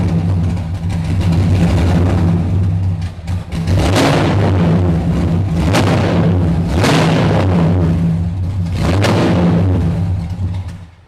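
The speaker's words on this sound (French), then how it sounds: "quand j'enclenche la première, ça fait comme une moto en fait" A car with a non-standard gearbox engages first gear, its engine giving a loud, close, motorcycle-like drone that surges in three or four revving swells over a steady low hum.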